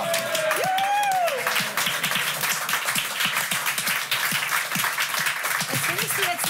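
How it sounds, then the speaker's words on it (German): Studio audience applause on a German late-night talk show, a steady patter of clapping with voices and an exclamation rising over it near the start. "Ich finde, dass das jetzt wohl ein Applaus wert."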